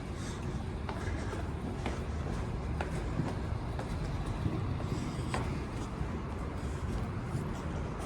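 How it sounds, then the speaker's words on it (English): A vintage Dover hydraulic elevator runs in the Denver Athletic Club garage in Denver, giving off a steady, close rumbling drone with faint rattles and clicks throughout, with no talking. "Ooh, Dover hydraulic elevator. This thing's pretty vintage."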